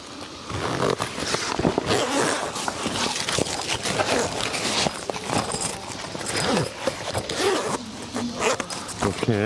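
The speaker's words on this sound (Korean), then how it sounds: "지퍼로 1차로 쭉 연결을 해주시고" Panels of a 270-degree freestanding car awning room are joined with a zipper, making a long, rough rasp that runs close and loud, with scuffing of the fabric and a voice talking throughout.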